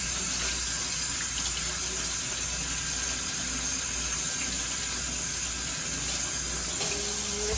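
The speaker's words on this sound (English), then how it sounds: "let me wash my hands" Tap water runs steadily into a sink during handwashing in a home kitchen, a continuous close splashing hiss with no talking.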